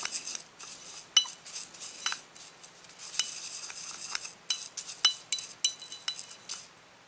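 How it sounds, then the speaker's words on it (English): Rose petals and a bath mixture stirred in a glass container for a Beltane bath, with a utensil clinking and scraping against the glass in quick, irregular strokes, close and fairly quiet, with no talking. "Let's stir that all up and see where we're at."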